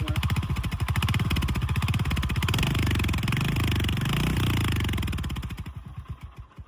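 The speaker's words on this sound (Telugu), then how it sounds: "ఒకసారి మనం బైక్ యొక్క ఎగ్జాస్ట్ సౌండ్ ఎలా ఉందనేసి విన్నాం" A 2025 Royal Enfield Hunter 350 motorcycle exhaust idles loudly and close, a steady fast chugging putter that holds for several seconds before easing off at the end.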